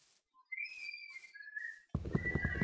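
Horses in the Minecraft video game give short, high whinnying calls in quick succession, followed by a burst of low clattering game noise.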